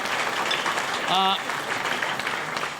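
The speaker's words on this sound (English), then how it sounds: "Let's please give Christine another round of applause" An event audience claps for Christine, a moderate wash of applause with a brief voice rising over it partway through before it settles back.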